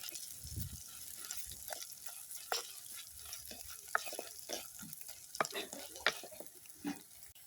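Shark fish pieces being sautéed for curry in a pan, with soft sizzling and frequent scraping and stirring clicks from a utensil, fairly quiet and close.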